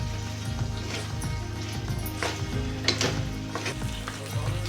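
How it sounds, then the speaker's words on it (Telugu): Ginger garlic paste frying in a pan, a soft continuous sizzle with occasional scraping stir strokes, fairly quiet and steady, with a low background hum throughout. "ఈ అల్లం వెల్లుల్లి పేస్ట్ వేసిన తర్వాత పచ్చివాసన పోయేంత వరకు ఇలా ఫ్రై చేసుకోవాలి"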